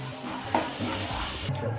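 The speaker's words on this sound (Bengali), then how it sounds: "মশলাগুলো দিয়ে ভালো করে ভেজে নিয়েছি" Spices, onion and ginger-garlic paste sizzle and fry in a pan while a spoon stirs and scrapes through them, a close continuous crackle with soft scraping strokes.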